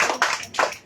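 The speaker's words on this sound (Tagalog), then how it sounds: "Salamat sa isang pumalakpak." One person claps at a religious healing gathering in a village, a few sharp, close hand claps spaced unevenly within under a second.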